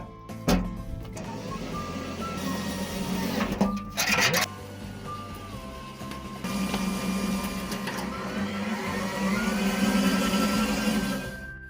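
A power screwdriver drives screws while a forge is being rebuilt, its motor whining in several separate runs, some short and some long, close by.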